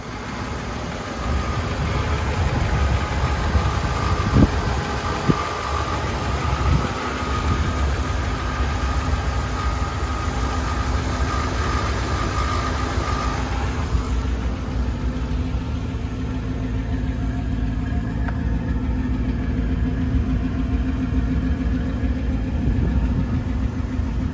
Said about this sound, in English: I'm gonna go ahead and crank the engine up.